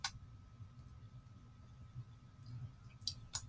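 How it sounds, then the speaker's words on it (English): A few faint, sharp computer mouse clicks sound close in a quiet room, one at the start and a short cluster near the end, over a low steady hum. "I will click on it"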